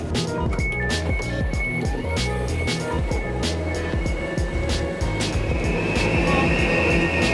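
A train rumbles loudly as it slows into London Liverpool Street station, with steady wheel clatter, rhythmic track clicks and high squealing tones from the brakes and rails.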